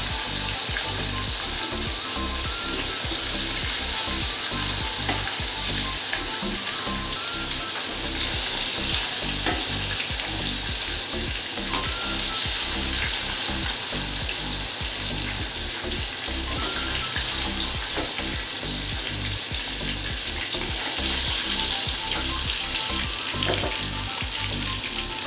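Food fries and sizzles in hot oil in a home kitchen, a dense, steady crackle that holds unbroken for the whole stretch, close and loud, with no talking over it.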